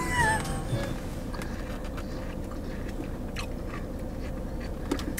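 Someone bites and crunches into watermelon close up, a steady wet chewing crunch that continues with little pause, while another person speaks briefly over it in a lively home food challenge.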